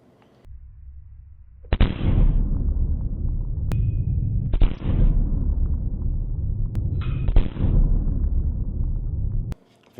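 Smith and Wesson Shield Plus pistol with a short barrel firing outdoors: three loud, booming shots a few seconds apart, each leaving a long rumbling tail, ending in silence.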